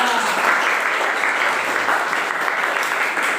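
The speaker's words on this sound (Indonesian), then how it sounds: "beri tepuk tangan untuk kelompok" Applause for a student group after a class presentation, a steady wash of many hands clapping at once, loud and continuous for the whole stretch with no talking over it.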